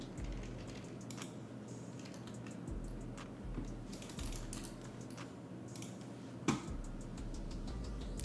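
Clicky typing on a computer keyboard during a live forex trading stream, a steady patter of keystrokes over a low room hum with one sharper knock near the end, no talk.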